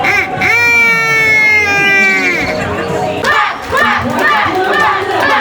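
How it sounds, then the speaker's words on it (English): A roller derby championship crowd shouts animal calls, including loud duck-like quacks and long wavering whoops, then breaks into mixed cheering and yelling; dense, loud and close throughout. "the crowd only communicates to the species through animal calls"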